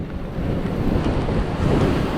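Rough, heavy sea waves surging on a Mumbai shore during rain while cast net fishing, a loud, continuous close roar of surf and wind with no voices.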